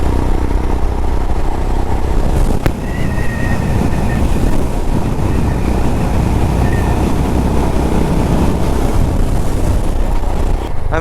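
Motorcycle riding along a road in Varkala, heard from the rider with heavy wind buffeting the microphone and a steady engine drone underneath, loud and continuous.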